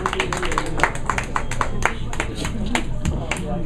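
Audience clapping for a puppet act at a comedy stage show, a steady patter of hand claps filling the room while a voice speaks over it.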